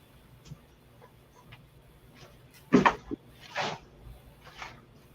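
Someone knocks on a house door in a few loud, sharp raps with short pauses between them, standing out against an otherwise quiet room.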